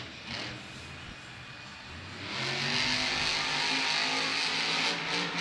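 Monster truck engine roaring at a Monster Jam event in Lumen Field, Seattle, rising from a distant rumble to a loud, sustained revving drone that echoes across the stadium.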